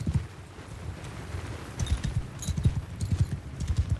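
Cavalry horses gallop in a Mount & Blade II Bannerlord battle, a dense continuous drumming of many hooves with distant battle noise.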